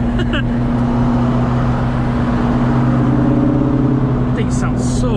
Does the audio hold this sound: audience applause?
no